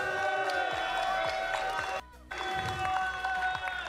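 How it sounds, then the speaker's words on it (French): Crowd at a Street Fighter 6 tournament final in Réunion clapping and cheering, a busy continuous wash of claps and voices that cuts out briefly midway before resuming. "Applaudissements pour Kobe, s'il vous plaît."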